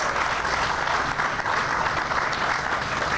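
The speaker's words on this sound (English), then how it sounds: "So let's give him a round of applause." Sustained applause from an audience at the reopening of the Jewel-Osco grocery store in Auburn Gresham, Chicago, a steady dense clatter of many hands at even loudness throughout.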